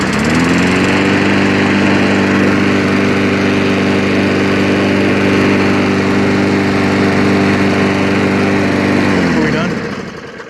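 Small engine firing on a cold start after a carb clean and new spark plug, running steady and loud up close for about ten seconds before cutting off.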